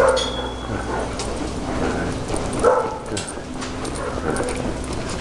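A dog whimpers and yips at a dog training session, with soft cries recurring through steady crowd noise and occasional voices.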